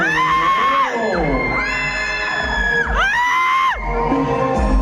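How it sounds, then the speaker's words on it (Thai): A crowd at a temple fair in Chonburi, Thailand, cheers loudly with long rising and falling whoops and shouts that fill the whole stretch without pause. "ขอเสียงกองเชียร์น้องผิงผิงหน่อย"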